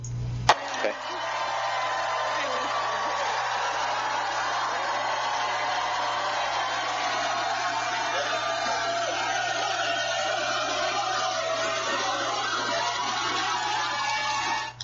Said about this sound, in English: Obligatory extra loud crowd noise